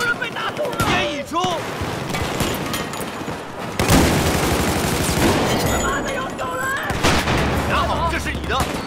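Battlefield 4 gunfire on a naval map: repeated close shots from a slow-firing shotgun amid scattered bursts and booms of distant battle, with an intense loud stretch in the middle.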